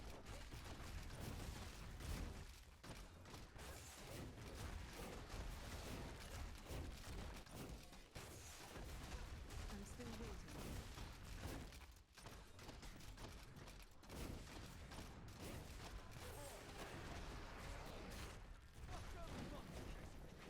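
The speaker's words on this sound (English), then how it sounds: "Explosions." Explosions and gunfire crash through a Diablo III greater rift run with a Fire Natalya-Marauders Demon Hunter, a dense continuous din of booms and thuds with barely a pause across the fight.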